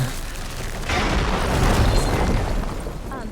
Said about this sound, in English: I assume I'm gonna be blowing up this wall with the fire gleam that I just scanned